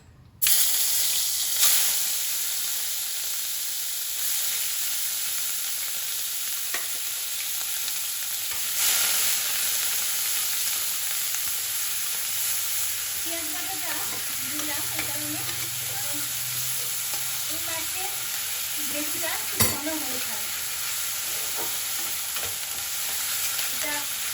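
Onion paste sizzles and fries in oil in a pan over a lowered gas flame, a steady close crackle with stirring and scraping, the sizzle intensifying and bubbling more busily in the second half.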